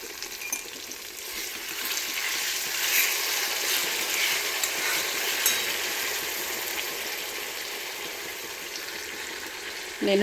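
Spices sizzle in hot oil as a tempering for tomato pickle, a loud, continuous crackling hiss that holds steady throughout, with faint stirring noises.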